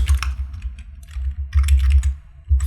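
Close, quick keystrokes patter on a computer keyboard in uneven bursts as a command is typed, with brief pauses between runs of clicks and no speech.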